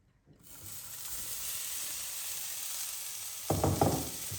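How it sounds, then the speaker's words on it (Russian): Shredded cabbage hitting a preheated frying pan, bursting into a loud, steady sizzle that holds throughout, with a brief stirring clatter near the end. "И отправляем капусточку на сковородку, заранее разогретую."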